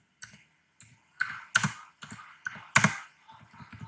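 Keys on a computer keyboard are typed in a short, irregular run of separate clicks, with a few louder strokes, close by and with no voices.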